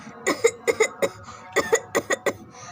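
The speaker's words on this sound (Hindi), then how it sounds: "इतनी खांसी कैसे आ रही है तुम्हें।" A string of roughly ten loud, close coughs in quick, uneven bursts, one person hacking repeatedly with brief gaps and no speech.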